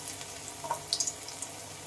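Thin banana stem pakoras fry in hot oil, a faint steady bubbling hiss with a few small pops near the middle, quiet and brief, with no talking.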